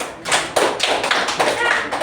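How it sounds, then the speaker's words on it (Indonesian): Brief scattered clapping from a third-grade classroom for a group of pupils, a few uneven claps and taps close by, with children's voices mixed in. "Beri tepuk tangan untuk kelompok 2."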